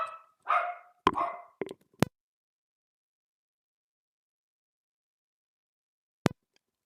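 Inside a house, a dog lets out a quick run of close barks. A couple of sharp knocks follow, then a long silence and one more isolated click.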